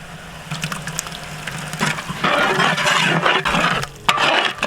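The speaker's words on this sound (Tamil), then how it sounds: "இப்போ மசாலா அடி பிடிக்காம இருக்க கொஞ்சமா தண்ணி சேர்த்துக்கலாம்" Water is poured into biryani masala of tomato, yogurt and spice cooking in a pot for whole-goat mutton biryani, a close continuous splashing and filling sound with bursts of sizzle-like hiss, no talking.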